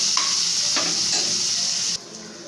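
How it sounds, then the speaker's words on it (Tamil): Sliced large onions and green chillies sizzle steadily in three spoons of hot oil in a kadai, with a spatula scraping and stirring them a couple of times before the frying noise drops lower. "நல்லா வதக்கிடலாம்."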